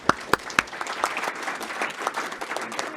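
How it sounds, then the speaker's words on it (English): An audience at a conference on Taiwan diplomacy claps for the panelists, starting with a few sharp, loud claps that settle into light, scattered applause from a modest crowd in a hall. "please join me in giving a round of applause to our panelists"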